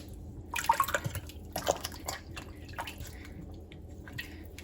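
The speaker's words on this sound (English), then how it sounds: "So now I'm going to rinse that out, tip that water out of there, and put some more clean water in." Homemade butter being squeezed and rinsed by hand in a bowl of clean water, giving soft irregular splashes and drips, close and quiet, with no talking.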